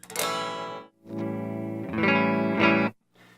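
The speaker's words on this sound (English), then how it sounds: "I pulled out my Line 6 DL4 because it's the only stereo delay pedal I have" Electric guitar chords through an Orange Rocker 32 amp and a Line 6 DL4 stereo delay with tremolo, drenched in effects, with a shimmering, pulsing wobble and trailing echoes, played alone in a few sustained phrases.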